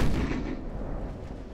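Battleship big guns fire in the naval video game Ultimate Admiral: Dreadnoughts, a heavy, booming blast that fades into a long, low rumble.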